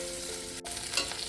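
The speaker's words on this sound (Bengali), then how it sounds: "মিনিট দুই ভালো করে নেড়ে একটু ভেজে নেব।" Onions sizzle steadily in hot oil as a spatula stirs them through the pan, with a brief scrape partway through, close and continuous.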